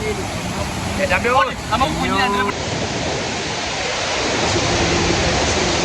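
A waterfall at the Kakkadampoyil resort gives off a continuous broad roar that stays steady throughout, with a voice briefly speaking over it near the start.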